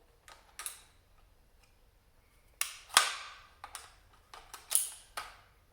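Ruger PC 9mm carbine parts clicking and locking together, a series of sharp metallic clacks and snaps at close range, the loudest cluster near the middle, with quiet gaps between.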